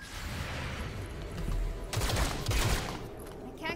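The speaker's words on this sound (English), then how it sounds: "That's a good volley." A gunfire volley in XCOM: Chimera Squad, a tactical video game: a quiet background hum breaks into two clustered bursts of sharp shots in the second half of the clip, fairly faint overall.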